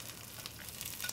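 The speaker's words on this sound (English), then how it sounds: "Put the leeks in, give them some frying, some caramelizing, and some of the meat." Leeks and meat frying in a pan during a tomato braised brisket recipe, producing a steady close crackling sizzle with faint stirring scrapes and no voices.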